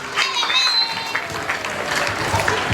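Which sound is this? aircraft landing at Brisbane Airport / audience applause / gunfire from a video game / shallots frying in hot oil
audience applause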